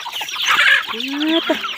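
Chickens cluck and squawk close by in a rural farmyard, a burst of agitated calls followed by a rising drawn-out cluck, loud and clear with no talk over them.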